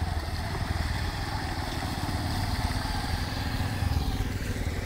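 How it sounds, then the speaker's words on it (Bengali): A motorcycle engine runs steadily and close by while crossing the Dhepa river, a continuous rumbling drone with light clatter and no break. "মোটরসাইকেলের মাধ্যমে ঢেপা নদী পার"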